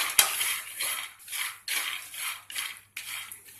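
A spoon scraping and stirring peanuts roasting over full flame in a kadhai, about six rhythmic gritty swishes, each a loud rattling sweep with short pauses between.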